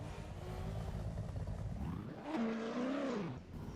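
Loud roaring engine of an LS V8 car in a racing video game, a sustained growl that rises and sweeps in pitch as it revs, steady and close throughout.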